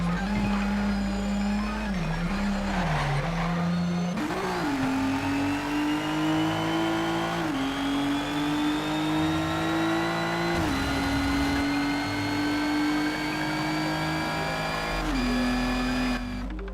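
A race car engine in Need for Speed Shift 2 Unleashed on PS3 drones loudly and continuously, its pitch climbing and dropping through repeated revs and gear changes, with no talk.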